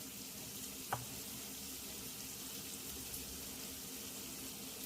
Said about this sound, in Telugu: పచ్చిమిరపకాయల పేస్ట్ కూడా వేగిపోయింది.